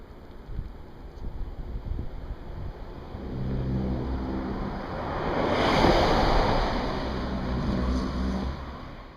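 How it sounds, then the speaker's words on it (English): Ocean waves roll along the Pacific coast near the redwoods, swelling into a steady surf roar that builds toward the middle, with wind buffeting the microphone and no talk. "now we're right along the ocean"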